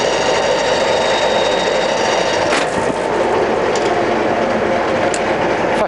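Colchester Master 2500 used centre lathe running forward at its slowest speed of 30 RPM, a loud, continuous mechanical drone and hum with faint rattles, steady throughout with no talking.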